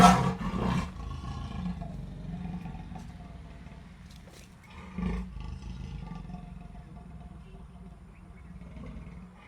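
A captured leopard, injured after angry villagers jabbed it with sticks and threw stones, lets out a loud, close snarling roar at the start, then growls more quietly over a low rumble, with a second harsh snarl midway.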